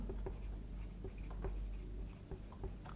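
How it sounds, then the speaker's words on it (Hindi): Pen writing a chemistry formula by hand on paper, quick irregular scratchy strokes and taps, close and fairly quiet with a low background hum and no talk. "पहले ये फॉर्मूला लिख रहे हैं हम"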